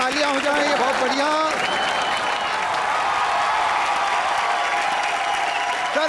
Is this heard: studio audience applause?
yes